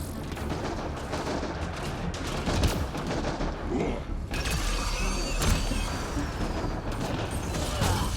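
Enemy gunfire in Mass Effect: Andromeda crackles as dense, continuous bursts of shots under a steady wash of combat noise, with mechanical clanks mixed in and no clear pauses.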